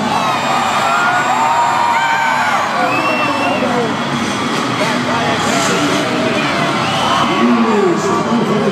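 A large Monster Jam arena crowd at a dirt bike stunt show roars, cheers and whoops in a loud, unbroken wash, with an announcer's voice carried over the top.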